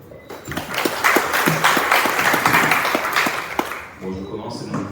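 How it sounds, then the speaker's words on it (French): Audience applause at a French presentation on an eco-lodge and agroforestry tourism project, a steady wash of clapping lasting several seconds over murmuring voices and occasional talk. "Je peux l'applaudir."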